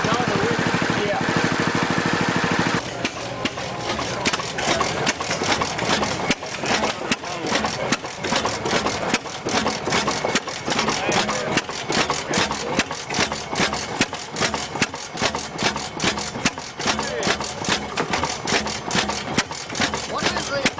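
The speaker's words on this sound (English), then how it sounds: "It's a 10 horsepower base motor. Gasoline engine." A 10 horsepower gasoline base motor runs steadily and loudly throughout with a dense mechanical chatter, after a brief rougher start, while people talk nearby.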